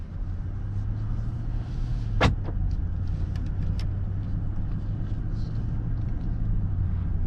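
A Mercedes-Maybach GLS luxury SUV pulls away from rest, a low, steady, muffled engine and road hum heard from inside the cabin, with one brief sharp click partway through.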